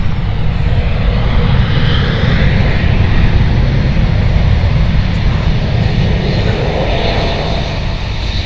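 Loud, continuous engine roar of an airplane arriving at Amsterdam Schiphol Airport, heard close and steady for several seconds with no talk.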